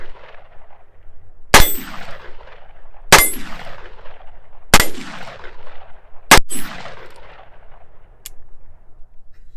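Four sharp, loud shots from a Heritage Tactical Cowboy revolver firing Cowboy loads, spaced about one and a half seconds apart, each with a ringing echo that fades before the next.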